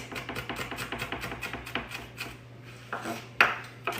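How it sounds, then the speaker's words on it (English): A knife finely chops on a cutting board in quick, even taps, close and steady for a couple of seconds, then slows to a few scattered knocks and a scrape, with no voices. "I'm gonna go over it a couple more times because again, I want a really fine chop on these"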